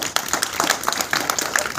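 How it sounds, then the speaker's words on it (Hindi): An audience at a PG college gathering in Mohindergarh claps, giving a spread of scattered, moderately loud hand claps that continue steadily for under two seconds. "सहमत हो तो ताली बजा दो।"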